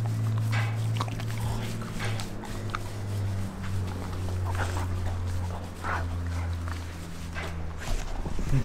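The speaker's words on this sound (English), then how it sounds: "What's he barking at, Rim?" Three-week-old German Wirehaired Pointer puppies whimper and give small yips, with soft shuffling movement and faint background hum, fairly quiet and close.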